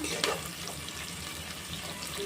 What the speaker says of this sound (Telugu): వేసుకున్న తర్వాత మీరు మంట మీడియంలో పెట్టేసుకొని ఆనియన్ మరియు పచ్చిమిర్చి బ్రౌన్ కలర్గా ఫ్రై అయ్యేలా